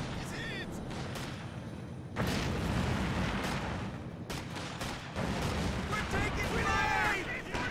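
Grenade blasts in the real-time strategy game Company of Heroes 2, heavy booming thuds amid constant battlefield rumble and scattered gunfire, with a voice talking over the noise.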